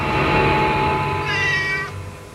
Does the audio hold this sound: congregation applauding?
no